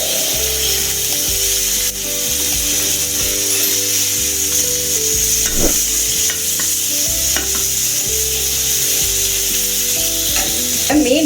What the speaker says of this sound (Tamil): நான் அது மாதிரி தோசைக்கல்ல போட்டு பொரிக்கிறேன்.